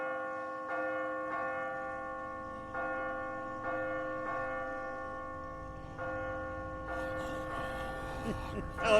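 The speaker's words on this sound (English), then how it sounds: "I'm ringing the bell." A large bell in a video game, Telltale's The Walking Dead, tolls repeatedly at a slow, steady pace, its hum lingering between strikes, fairly distant, with a scuffle of other noise near the end.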